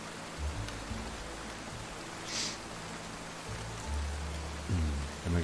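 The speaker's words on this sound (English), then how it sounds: "Rain's still going. I am really enjoying the rain." Steady rain falling in the Roblox game Lumber Tycoon 2, a soft continuous hiss throughout, with a few low thumps and tones from the game underneath.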